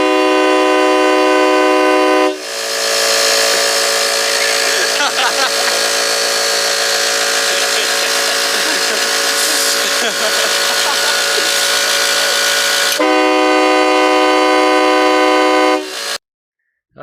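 A truck-mounted train horn blasts in one long, very loud multi-tone chord lasting about ten seconds, preceded and followed by a steady lower honk, ending abruptly.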